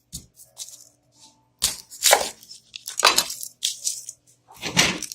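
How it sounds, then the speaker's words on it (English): Half an onion being cut with a knife for scrambled tofu, several crisp chopping strokes and slices in uneven bursts separated by brief pauses, close by with no talk. "we're going to take about, I will say half of the onions. We're going to cut it."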